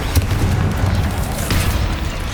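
Confringo explosive spell from the Hogwarts Legacy video game, with a loud, dense, continuous blast rumble and crackling bursts rolling throughout and no gaps between them.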